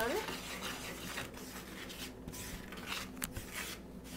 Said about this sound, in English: we're just going to stir that up with a wooden spoon